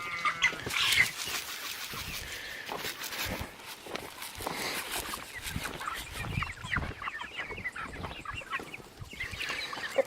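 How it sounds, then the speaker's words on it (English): A homestead rooster clucks and calls his hens over to a scattering of oyster shells and grit, with soft repeated clucks, bird chatter and footsteps shuffling nearby throughout, and no talking. "Big Papa's gonna call everybody over here."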